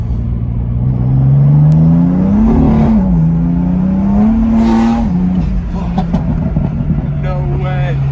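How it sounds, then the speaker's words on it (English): A BMW M4 with a stage 2 MHD tune accelerates hard, its loud engine note climbing steadily through the revs, with a brief dip at a gear change, then climbing again before easing off, heard from inside the car. "Okay, we're gonna do a quick pull."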